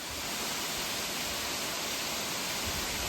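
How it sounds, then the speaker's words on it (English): Jones Falls, a large waterfall on the Appalachian Trail, roars in a steady, dense, loud rush of water with no break, heard up close. "This is definitely way bigger than the other waterfall."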